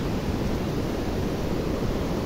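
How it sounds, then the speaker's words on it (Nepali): Steady, dense rain on a mountain highway between Besisahar and Manang, a continuous broadband hiss holding at an even level throughout with no voices. "फेरि पानी पर्दैछ."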